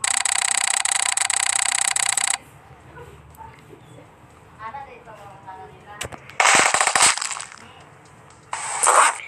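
Gunfire in the stick-figure shooter game Stick Warfare Blood Strike: a long rapid automatic burst, then a couple of single sharp shots and two more short bursts separated by quieter game sounds.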